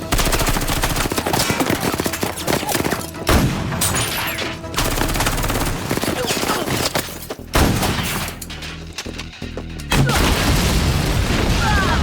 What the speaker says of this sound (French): Je me fais canarder par un tireur d'élite.